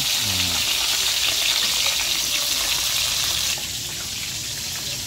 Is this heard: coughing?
no